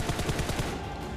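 Rapid automatic gunfire rings out in a battle royale mobile game, a fast burst of about six close, punchy shots in steady rhythm lasting just over a second.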